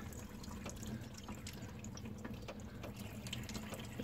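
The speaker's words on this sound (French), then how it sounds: "Et là, comme vous pouvez voir, ça commence à couler." Coolant drains from a Mitsubishi Colt into a pan as a steady, faint trickle of liquid that runs continuously and alone throughout.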